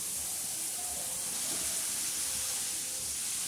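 Okra hits a hot tawa and sizzles in a steady, even hiss that carries at the same level from start to finish, close and moderately loud.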